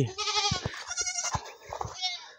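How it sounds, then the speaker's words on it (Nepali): Goats in a village goat shed give strained, wavering bleats close by, overlapping with one another in a steady chorus with no clear gaps. "गोठ घर बाख्राहरू बिजोग छ"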